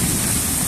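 Steady rain falling during an afternoon downpour in a residential park area of Jakarta, a dense continuous hiss with low rumbling undertone, close and loud, no voices.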